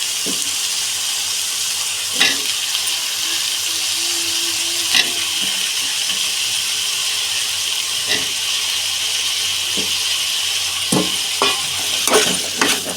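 Eggplant and potato fry in a pan with a steady, loud sizzle, punctuated by occasional scraping stirs of a spoon against the pan.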